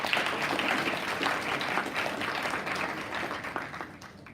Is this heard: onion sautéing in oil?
no